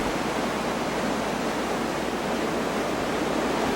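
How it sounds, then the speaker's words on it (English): A torrent of water surges backwards through a sand and anthracite filter during backflushing, a dense, unbroken roar that stays loud and steady from start to finish. "a torrent of water is released under the filter and forced backwards through the filter"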